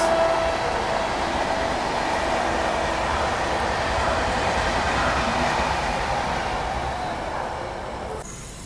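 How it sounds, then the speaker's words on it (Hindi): Gatimaan Express rushes past on the adjacent track during an Indian rail journey, a loud, steady roar of wheels and rushing wagons that eases slightly at the end. "बगल से भी क्रॉस हो रही है गतिमान एक्सप्रेस।"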